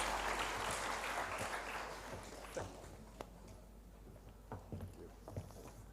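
An audience at the inaugural ceremony of the ICSE 2025 conference gives a round of applause for Dr. Benu Bor from an office in New Delhi, a dense wash of clapping that starts strong and thins over several seconds, with scattered louder claps near the end.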